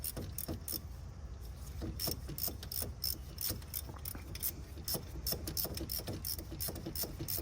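A 1/4-inch ratchet on a 10mm socket and extension loosens a bolt on the transmission of a 2010-2013 Acura ZDX, giving rapid, close, continuous ratcheting clicks throughout.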